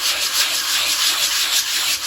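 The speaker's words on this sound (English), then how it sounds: "So I'm going to do a little bit of sanding" Close, steady sanding of a dry oil painting surface, a rhythmic scratchy rubbing repeated in quick back-and-forth strokes.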